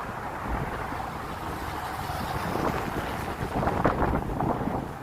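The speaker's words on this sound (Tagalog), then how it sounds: "Lakas ang hangin." Strong wind buffets the microphone while cycling, a steady roaring rumble that swells louder toward the end, with no talking.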